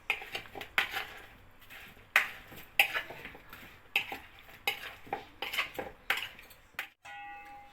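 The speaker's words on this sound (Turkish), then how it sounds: "Çatal yardımıyla karıştırıyorum her yerine eşit şekilde dağılacak şekilde baharatımız ve yağımız" A fork mixes spices and oil in a metal bowl, giving repeated clinking and scraping strokes in an uneven rhythm, close and fairly loud, with a brief tonal ping at the end.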